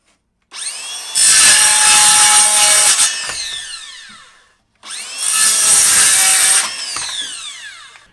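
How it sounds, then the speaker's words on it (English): A circular saw cuts through a wooden board in two separate passes, each a loud, close, high-pitched whine that spins up, bites into the wood, then winds down as the blade slows, with no talk. "It's always best when cutting with a circular saw to let whatever you're cutting fall."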